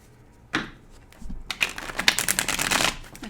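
Tarot cards being shuffled up close, a brief riffle followed by a longer run of rapid crisp flutters and taps, with no talking.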